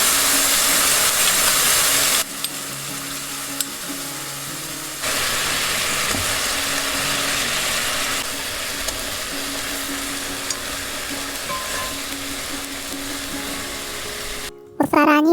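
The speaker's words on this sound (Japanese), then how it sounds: "蒸し焼きにしたら先ほど合わせておいたソースの調味料を入れてとろみがつくまで両面絡ませてください。" Chicken tsukune meatballs with garlic scapes sizzle steadily in a pan as a sauce is added and stirred to coat them, a loud, constant frying hiss with bursts that swell and settle, no talking.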